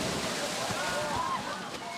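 Water sloshing and splashing as people jump into a cold pool chilled with ice, a steady close wash of water noise with voices talking over it.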